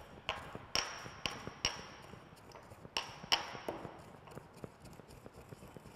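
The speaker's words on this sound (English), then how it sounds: "now these Panch phoron which I had roasted earlier, I will pound it to a coarse powder." Roasted panch phoron spices are pounded to a coarse powder in a kitchen while making tomato chutney. About a dozen sharp, irregular taps and knocks ring out up close, some with a brief metallic ping, and there is no talking.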